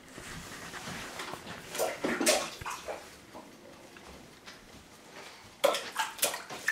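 A young child splashes in a dog's water bowl at home, irregular bursts of slapping and sloshing water separated by quieter pauses, close by, with a sharp flurry of splashes near the end.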